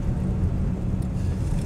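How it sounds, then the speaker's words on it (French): A 1960s Facel Vega HK500, a French grand tourer with a 360-horsepower engine, accelerating: a steady, loud low rumble holds for under two seconds with no voices. "Lorsqu'on accélère, il y a une sonorité impressionnante et une puissance impressionnante"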